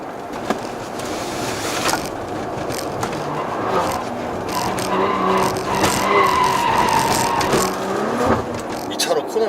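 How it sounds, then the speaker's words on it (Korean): A Maserati Levante S in sport mode pulling away from low speed, its engine note rising steadily under someone talking, with road and tire noise around it. "특히 이렇게 저속에서 발진할 때는 특히 더 엔진 소리가 더 좋은 것 같아요."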